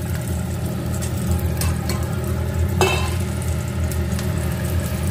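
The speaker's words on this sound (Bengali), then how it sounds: "আমি এই ফোড়নটা এখানে ঢেলে দিচ্ছি" Tempering spices being poured into a pan for an elephant foot yam curry, giving a steady close sizzle and frying crackle with one sharper splash-like burst midway, no talking.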